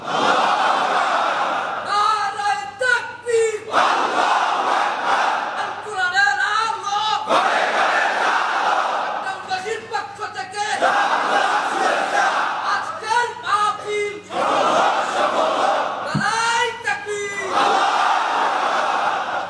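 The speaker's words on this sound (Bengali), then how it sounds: "তাকবীর পড়ুন, আল্লাহু আকবার।" A large crowd at an outdoor Islamic preaching gathering in Cape Town chants takbir in loud, repeated collective call-and-response bursts, separated by brief pauses.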